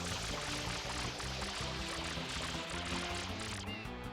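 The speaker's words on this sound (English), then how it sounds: "let's hope I have enough to spray it and to water slide" Water spraying from Mario's FLUDD nozzle in Super Mario Sunshine, a continuous gushing spray under pulsing game music, ending with a brief splash near the close.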